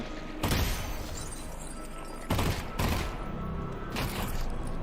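Loud bursts of gunfire from a VR shooter game come in three or four separate volleys, each a sharp crackling blast over a continuous background rumble.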